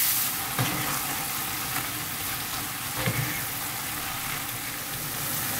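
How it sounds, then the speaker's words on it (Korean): Marinated gochujang bulgogi meat stir-fries over high heat in an oiled pan, a loud continuous sizzle broken by occasional stirring clatter. "이제 계속 센 불에서 빠르게 볶아줄 거예요."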